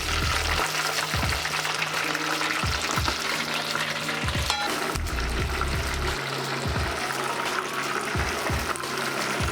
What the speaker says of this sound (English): in the oil and fry for about 2 minutes